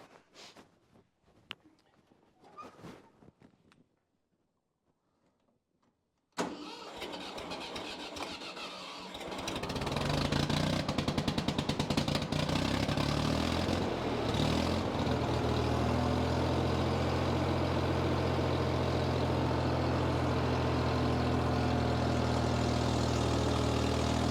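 An old John Deere or Ford tractor engine that had sat for a year cranks after a quiet pause with some faint clatter, fires up abruptly, then settles into a loud, steady, rumbling idle that carries on alone.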